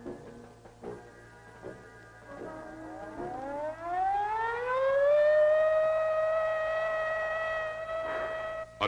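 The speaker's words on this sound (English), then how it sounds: "Attack warning came at 20:15 hours." A civil defense attack warning siren rises slowly in pitch to a sustained, wavering wail, heard alone and somewhat distant over a faint background with scattered ticks.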